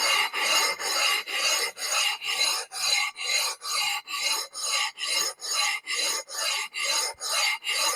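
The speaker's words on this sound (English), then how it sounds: "So we're flattening out this stone, and we're going to use this to flatten out our block." A flat abrasive stone is rubbed back and forth in a fast, regular rhythm of about two rasping strokes per second while it is flattened for surfacing an engine block deck. The scraping is close and even, with no voices.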